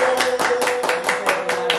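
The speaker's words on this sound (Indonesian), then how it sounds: "Tepuk tangan dong" A small studio audience at an Indonesian talk show claps in a quick, close rhythm of distinct hand strikes, about a dozen even claps with a faint tone humming beneath.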